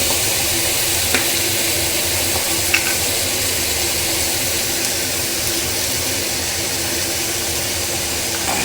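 Lote fish frying in hot oil with a loud, steady sizzle, broken by a couple of small clicks or stirs.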